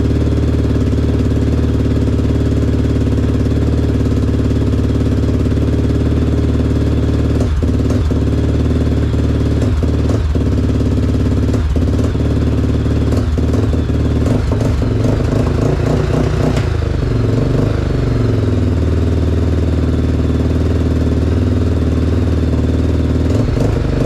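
A rebuilt Honda 400ex ATV engine idles close and loud with a steady low rumble, giving a few blips of revving midway, while a bogging fault persists.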